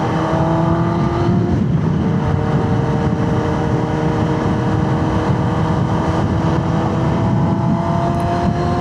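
New Kawasaki motorcycle riding on the road, its engine droning steadily with wind noise throughout and a shift in pitch as the rider changes gear early.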